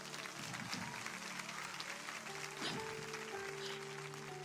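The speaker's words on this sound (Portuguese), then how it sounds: "Pode aplaudir o Senhor." A large church congregation at a women's gathering applauds in a steady, sustained wash of clapping, with held instrument tones running underneath throughout.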